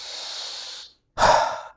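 Forceful kapalbhati pranayama breathing: a long, steady inhale through the nose, a brief pause, then one sharp, loud exhale pushed out through the nostrils, heard close and alone.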